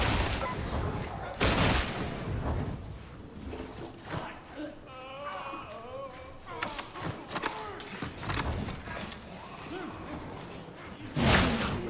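Ranged weapons fire in the Warhammer 40K Darktide shooter game, loud bursts of gunshots scattered across a busy battle soundscape, with voices talking underneath throughout.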